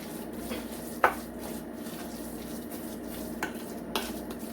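A spoon works through a thick sweet potato and carrot pudding mixture for St Vincent sweet potato pudding, with a few distinct knocks against the bowl amid soft, wet stirring.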